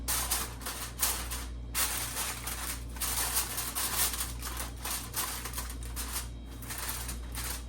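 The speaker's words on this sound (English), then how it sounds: "I'm going to cover them in foil" Aluminum foil crinkling and rustling as it is pressed over Cornish hens in a roasting pan, in loud close crackling bursts with brief pauses, steady low hum underneath.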